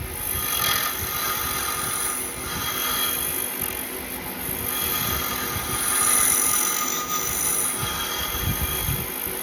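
A wood lathe turns a red cedar duck call, a steady motor hum with a high whine and uneven scraping of the cutting tool against the spinning wood, continuous and fairly close, with no talking.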